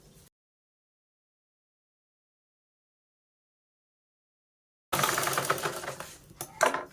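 Sewing machine stitching along the edges of a khan blouse-piece fabric, a dense, fast mechanical rattle that starts abruptly after silence and runs steadily for about two seconds with small fluctuations.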